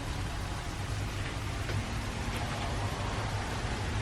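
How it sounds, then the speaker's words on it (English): Ice pellets fall steadily in a winter storm, a continuous broadband hiss much like rain on a surface, with a low rumble underneath and no voices. "That's literally not rain. That is ice. But it sounds like rain."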